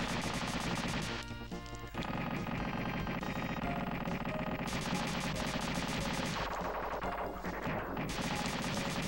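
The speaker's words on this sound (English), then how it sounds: "I'm constantly shooting at an enemy, even though I'm not in front of it" Player ship in Super Earth Defense Force on SNES hardware, firing rapid, relentless chiptune shots against a dense layer of game music and enemy noise, steady and continuous.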